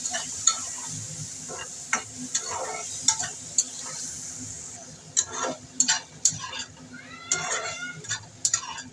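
Steady sizzling and crackling of spices frying with eggplant in a pan, with frequent scraping strokes of a spatula stirring, close up; no talking.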